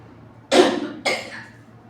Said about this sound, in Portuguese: eu tenho alergia a ar-condicionado, depois de um certo tempo vem essa tosse, né?